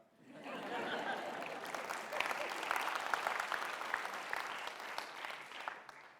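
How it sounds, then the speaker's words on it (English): Audience clapping at a talk, swelling quickly into sustained applause with a few chuckles mixed in, holding steady for several seconds. "You can clap."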